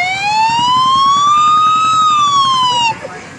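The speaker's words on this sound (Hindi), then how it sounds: "ट्रक सवार की आवाज" A truck's wailing siren sweeps slowly up and then back down, loud and close, and cuts off abruptly after about three seconds.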